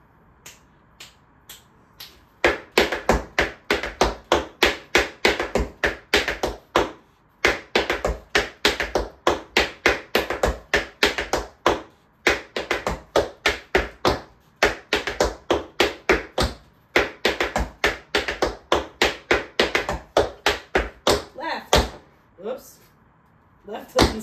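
A tap dancing combo from an online class plays out as crisp, close taps and stamps of tap shoes in a quick, regular rhythmic pattern, repeated phrases running for about twenty seconds with no talking over them.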